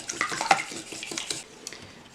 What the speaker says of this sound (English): I'll give that a little mix before we add in our